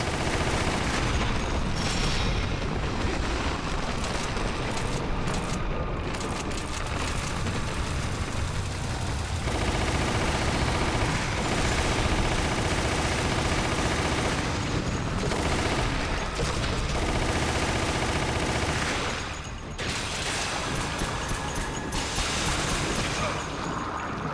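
Sustained SMG gunfire in Resident Evil: The Umbrella Chronicles on the Wii, loud and continuous rapid bursts layered with explosions and game noise, nearly unbroken throughout.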